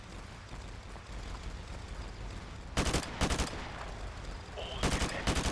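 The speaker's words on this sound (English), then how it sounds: "I'm shooting them with my sniper rifle." Gunfire from a sniper rifle in a battlefield video game, two short clusters of loud, rapid shots rising out of a steady background rumble of distant combat.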